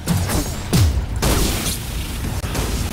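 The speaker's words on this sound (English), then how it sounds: "Yeah, here's some fireworks for ya." A fireworks weapon explodes in the vehicle combat game Gear Up, with a few sharp bursts over continuous noisy game action.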